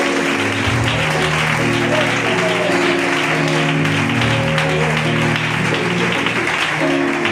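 Loud, sustained clapping from a congregation during a youth church service, a dense crowd applause that fills the whole stretch without a break.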